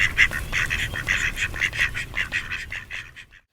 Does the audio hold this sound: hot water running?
no